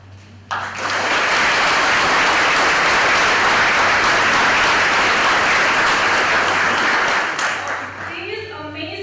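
An audience at a ribbon cutting ceremony breaks into loud, sustained applause that carries steadily for about seven seconds before tapering off, with a voice speaking faintly at the end.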